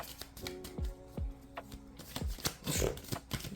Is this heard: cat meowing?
no